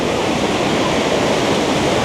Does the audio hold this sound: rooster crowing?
no